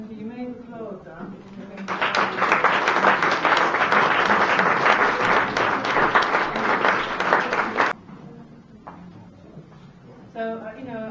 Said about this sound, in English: You may applaud that.